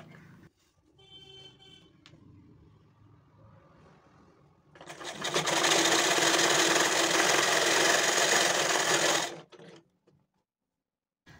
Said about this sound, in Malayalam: ഇനി നമുക്ക് അതിൻ്റെ മുകൾ ഭാഗം ഇതുപോലെ ഒന്ന് അര ഇഞ്ചിൽ നമുക്കൊന്ന് തയ്ച്ചെടുക്കാം